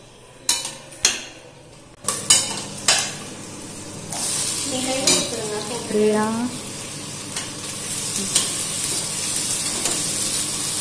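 Whole cinnamon, cloves, cardamom, green chillies and bay leaf sizzle in hot oil in a pressure cooker for a vegetable biryani, opening with a few sharp clatters, then a steady close frying hiss with stirring scrapes.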